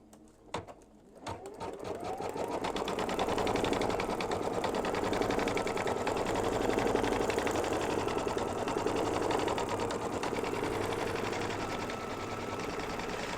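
Embroidery machine stitching a freestanding Christmas tree tealight cover design, its rapid, steady needle clatter starting after a few clicks and running loud and continuous to the end.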